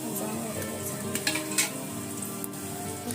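Slices of sweet toast for shahi tukda fry in plenty of ghee, giving a continuous close sizzle with a few soft stirring taps and no voices.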